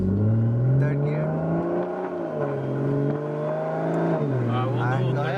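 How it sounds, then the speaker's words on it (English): A 2023 Toyota Supra 3.0 Premium with a manual gearbox and aftermarket CTS intake accelerates through the gears, its engine note droning steadily and shifting pitch near and loud under people talking in the cabin. "just get rolling up to like, I don't know, third gear"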